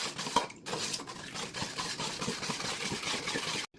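A spoon scrapes and knocks steadily against a pot while stirring a pecan candy mixture of condensed and evaporated milk, a close, continuous clatter that runs without a break until it stops abruptly.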